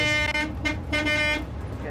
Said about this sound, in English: You just love that honking.